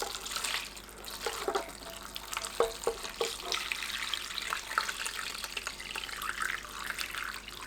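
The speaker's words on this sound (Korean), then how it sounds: "매실청 300ml, 소주 70ml 섞어줍니다. 뜨거운 상태로 노각 위에 부어주세요." Hot plum syrup mixed with soju is poured over aged cucumbers (nogak) for pickling, giving a steady, close splashing pour with a few louder sloshes and no talk.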